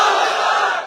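A large crowd at an Asaduddin Owaisi political rally in Kishanganj, Bihar, roars back a single loud sustained chorus of voices in response to a slogan. The shout is brief and fades at the end.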